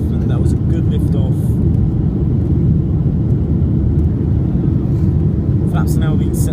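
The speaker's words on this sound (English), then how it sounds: "we finally took off and that was a good lift off" Ryanair Boeing 737-8AS(WL) jet climbing out just after takeoff from Gothenburg, a loud, steady broadband engine roar heard from inside the cabin, with faint voices now and then.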